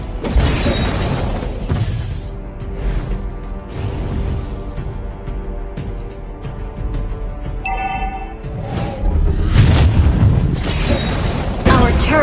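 A heavy boom as a turret is destroyed in Mobile Legends Frenzy Mode, with bursts and a second loud impact near the end over busy battle noise.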